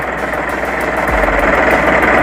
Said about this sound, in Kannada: ಗಾಡಿ ಮಾತ್ರ ಸೌಂಡ್ ನೋಡ್ಕೊಳ್ಳಿ ಹಂಗೇನೆ ಕೇಳಿಸ್ಕೊಳ್ಳಿ ಇಂಜಿನ್ ಸೌಂಡ್ ಹೆಂಗೈತೆ ಅಂತ